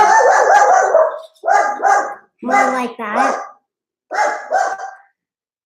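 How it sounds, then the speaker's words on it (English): A pet dog barks loudly and close in several bursts of yelps and howl-like barks with short pauses between them, while a person speaks briefly over the barking indoors. "That's our dog. He's loud."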